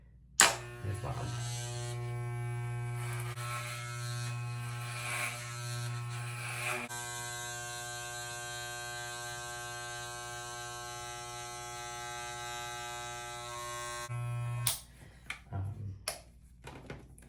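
Electric hair clippers run continuously against the back of a head during a home haircut, a loud steady buzzing drone lasting most of the time, stopping near the end with a few clicks and handling sounds.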